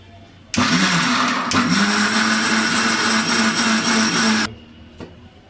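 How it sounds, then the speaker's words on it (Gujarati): A mixer grinder loudly whirs for about four seconds as it grinds boiled masala into a gravy for a cashew and garlic curry, starting abruptly and cutting off just as suddenly. "હવે સરસ મજાનું પીસી લેશું"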